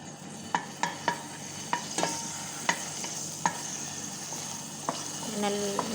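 Garlic hitting hot cooking oil in a pan, with sharp crackling pops and sizzles scattered over a steady frying hiss, followed by a brighter burst of sizzling near the end.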